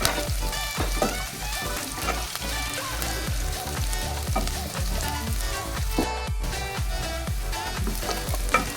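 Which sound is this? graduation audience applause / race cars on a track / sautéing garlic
sautéing garlic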